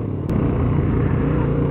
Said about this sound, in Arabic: نشوفو واش هاد الموتور كي داير في البويسونس ديالو.